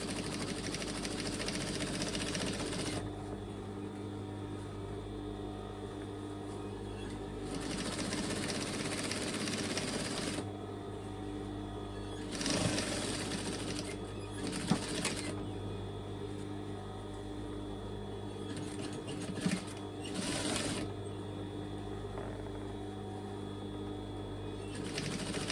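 Sewing machine stitching the side seam of a skirt being taken in: faint, steady mechanical whirring that starts and stops in stretches, close by, with a few small knocks and no talking.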